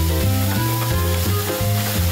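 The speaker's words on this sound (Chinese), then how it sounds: "蒜片、蛤蜊跟蛋菜翻炒后要派上秘密武器" Garlic slices, clams and vegetables stir-fry in a hot pan, giving a steady loud sizzle with a background musical bed throughout and no speech.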